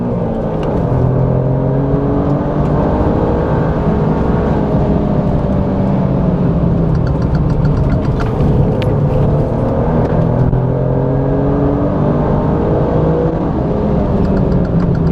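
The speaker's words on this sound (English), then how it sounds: "let you enjoy the rest of this lap with a little bit of sound from that glorious" Alfa Romeo Giulia V6 engine droning steadily through a lap, revs rising and falling continuously at close range, loud and unbroken with no talking over it.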